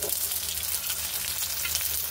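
Masala spices sizzle and fry in a hot pan for brinjal fry, a steady close crackling hiss with no talk over it.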